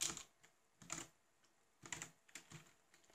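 Quiet, irregular bursts of keystrokes as code is typed on a computer keyboard, coming in short clusters with small pauses between them.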